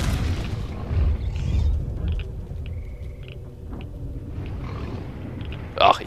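A grenade goes off in the game Stalker: Call of Pripyat as a deep rumbling boom with rolling low-end thunder, followed by scattered game noises and a sharp crackle near the end.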